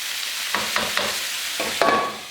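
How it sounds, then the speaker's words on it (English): Cold water goes into a hot pan of rice and vegetables, giving a soft sizzle broken by several short stirring scrapes, close up and fairly quiet. "a little bit of cold water to create steam"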